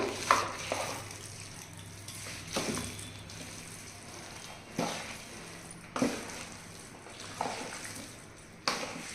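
A spoon stirs red chilli pickle with its tempering in a vessel, making soft scraping, squelching sounds with periodic sharp knocks against the pot, at a close distance and fairly quiet level.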